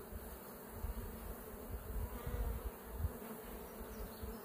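Honey bees drone at the hive while honey supers are pulled, a dense continuous buzz that swells and dips faintly with a low rumble underneath, no voices.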